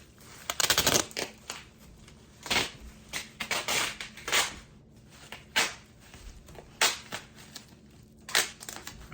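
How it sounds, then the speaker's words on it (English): Duct tape pulled and wrapped around a life-size mummy form, a series of loud ripping, crinkling bursts at irregular intervals, close up and alone. "I wrapped her up in duct tape"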